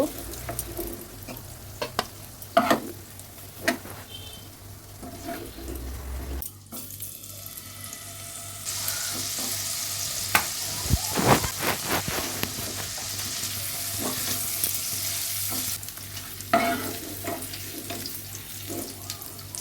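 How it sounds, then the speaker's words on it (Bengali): Paneer frying in oil sizzles steadily, with stirring, clinks and scraping of the pan throughout, and the frying swells louder midway before easing back down. "দেখুন আমার হাফ ব্যাচ পনির ভাজা হয়ে গেছে, বাকিগুলোও এইভাবে ভেজে নেব।"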